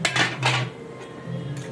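Lid lifted off a pot of jackfruit and potatoes cooking, giving a few close metallic clanks and scrapes in quick succession, then a brief quiet pause and another light clatter.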